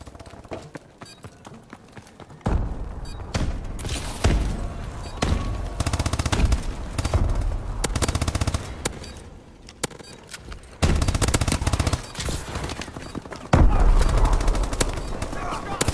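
Heavy missile strike explosions in Call of Duty: Advanced Warfare, loud booming blasts and rapid crackling gunfire in dense overlapping bursts, near and intense, with brief quieter gaps.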